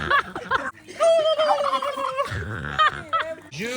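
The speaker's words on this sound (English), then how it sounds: "this turkey that would imitate all of our ululations" A barnyard turkey gobbles loudly and close, several rapid warbling calls in quick bursts over a few seconds.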